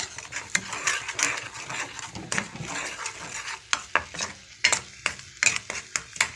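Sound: stirring sugar into raw mango yogurt mixture

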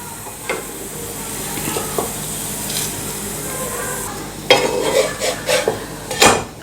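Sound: methi wheat-flour paratha frying in ghee on pan

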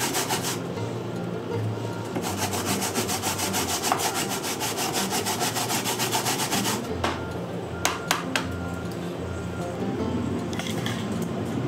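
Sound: knife cutting raw flounder into bite-sized pieces

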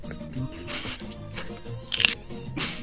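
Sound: crunch of biting crispy chicken, maybe lettuce

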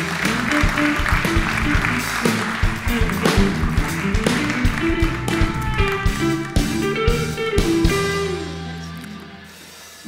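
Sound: audience applause for a speaker

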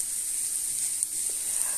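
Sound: green pepper and onion frying in a pan

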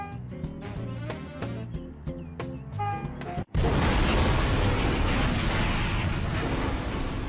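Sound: train crash explosion in video game Conduct Together

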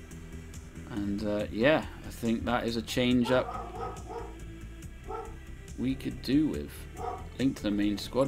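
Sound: dog barking

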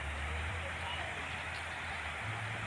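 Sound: water overflowing a weir

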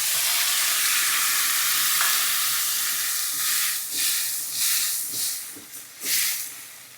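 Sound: mixed river fish poured into pan with softened onions, sizzling

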